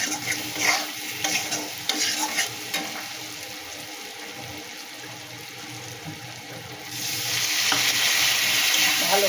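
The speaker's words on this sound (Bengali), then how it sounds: "এটা ভালো করে কষিয়ে নেব" Spices stirred and sautéed in a pan for Bengali parshe fish curry with brinjal and bori: steady scraping and sizzling close by, with a hissier, louder stretch toward the end.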